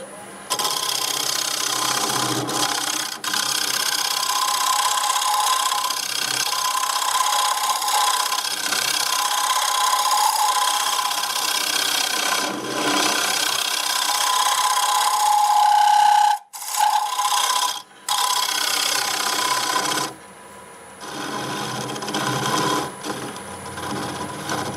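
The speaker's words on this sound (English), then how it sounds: "I'll clean this up and we'll go ahead and sand it." Purple heart wood spinning on a lathe is sanded with a steady hissing, rasping abrasion that continues for long stretches, interrupted by brief pauses and a short tonal whine, with occasional talk.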